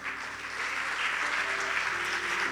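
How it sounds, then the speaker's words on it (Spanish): A church congregation applauds, a steady, soft wash of many hands clapping that holds evenly for a couple of seconds, heard from some distance with no talking over it. "Dele un fuerte aplauso al Señor."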